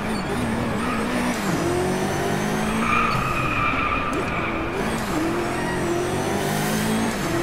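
A Koenigsegg Agera R in the DRIVECLUB racing game, its engine droning steadily with tire skids and squeals as it corners, loud and continuous throughout.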